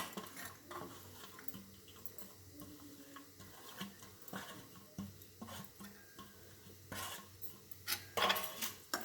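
A spoon stirs cooked radish mixed with crumbled steamed lentils in a pan, giving repeated metallic scrapes and taps at close range that grow louder near the end. A faint sizzle runs underneath, and no one speaks.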